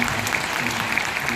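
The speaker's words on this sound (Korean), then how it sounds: "하여튼 박수 한번 주십시오." Brief burst of audience applause at a book launch event, a dense, even patter of many hands, moderately loud with a faint crowd murmur.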